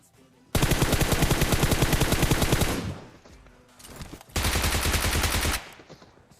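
Automatic gunfire from the battle game PUBG: two long, loud sustained bursts of rapid rifle shots, one lasting over two seconds and another later, separated by a quieter gap with faint distant activity.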